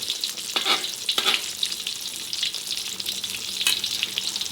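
Tortang talong, an eggplant omelette, fries in a pan of hot oil with a steady crackling sizzle and a few louder spits and pops, close by and with no one speaking.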